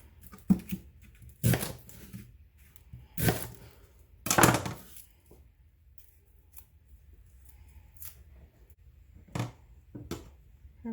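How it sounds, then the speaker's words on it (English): A knife finely dicing half a red onion on a cutting board gives sharp separate chops in an irregular rhythm, some paired and some spaced apart, close and crisp over a quiet background. "So then we want half a red onion"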